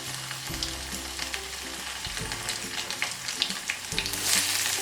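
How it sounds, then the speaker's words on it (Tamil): Cumin seeds crackle and splutter in hot oil during a tempering step for a snake gourd and cowpea kootu, a steady close sizzle dotted with sharp pops and a few stirring scrapes, with no talking. "சீரகம் நல்லா பொரிஞ்சு வரட்டும்"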